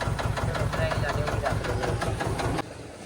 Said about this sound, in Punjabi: ਹੁਣ ਟਰੈਕਟਰ ਵੀ ਅੰਦਰ ਡਾਕਾਉਣੇ ਆ ਬਰਾਂਡੇ ਦੇ ਉੱਪਰ